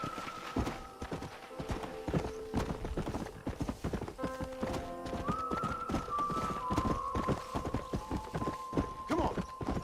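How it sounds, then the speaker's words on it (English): A stallion's hooves clip-clop in steady rhythmic beats as it moves along in Red Dead Redemption, close and clear, with tonal game music notes running underneath and an occasional snort. "I got a new horse. A stallion."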